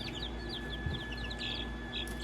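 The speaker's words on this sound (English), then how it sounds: "we're going to go ahead and put all the chicks in now" Chicks chirping and cheeping in a backyard coop as they are put in with older hens, a steady scatter of high peeps and soft clucks close by, with a low background hum.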